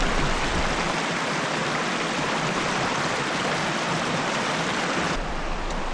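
River water flowing steadily at night in heavy rain, a dense, even rushing noise close by with no voices.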